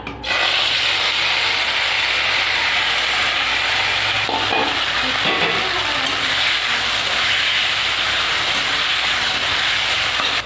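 Fish hitting hot mustard oil with cumin seeds in a pan as a Bengali koi fish curry gets cooked, giving a loud, steady sizzle and crackle of frying that holds from start to finish with no talking.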